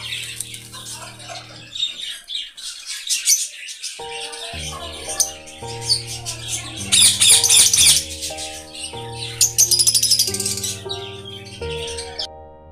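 Lovebirds and budgies chirp and twitter in quick bursts, close by, with flurries of wing flapping, over a steady musical backing.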